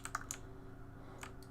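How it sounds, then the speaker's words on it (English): Keyboard and mouse clicks come from a PC setup used for modding a Warhammer 40k Total War game, a few sparse, fairly faint taps over a steady low hum, with no voices. "I bet you're hearing tons of clicking."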